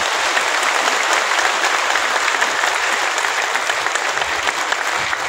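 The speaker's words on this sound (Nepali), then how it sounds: "यो माहौलको लागि जोरदार ताली" A large audience applauds steadily at a public gathering, a loud, dense wash of clapping that holds even throughout with no one speaking over it.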